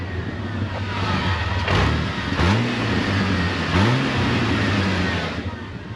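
A Jeep's engine idles steadily up close, rising in a few quick revs and settling back each time, with no talking over it.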